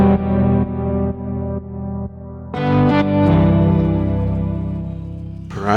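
A music track in Suno Studio with a gritty distortion and drive effect, harmonically thick and sustained, loud and steady, with a brighter saturated swell partway through and no voices.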